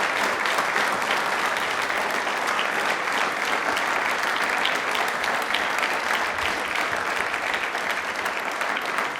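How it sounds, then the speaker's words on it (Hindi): A studio audience at a televised quiz show claps loudly and continuously, a dense, steady wash of applause from many hands with no pauses. "ताली एक बार जोरदार होनी चाहिए इस बात पे।"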